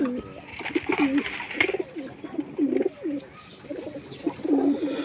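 A pigeon near a loft coos in a repeated low, throaty rhythm, several close calls in a row.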